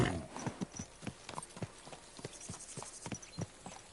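Rhythmic clip-clop of horse hooves trotting at a steady pace, quiet and a little distant, with game-like clarity, in the video game Kingdom Come: Deliverance 2.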